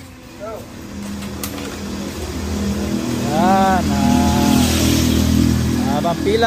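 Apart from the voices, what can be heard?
motorized tricycles queued at the line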